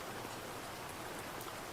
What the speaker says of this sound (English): The rain will stay a while longer.